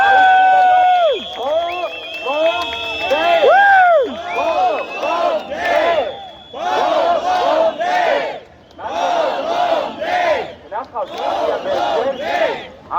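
A protest crowd outside parliament cheers and chants in loud, rhythmic bursts, voices swelling together in repeated waves with brief pauses between them.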